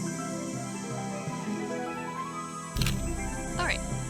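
A camera in the video game Nancy Drew: Ghost Dogs of Moon Lake snaps a photo of a bird: one crisp shutter click cuts in partway through a quiet outdoor ambience, followed shortly by a brief bird chirp.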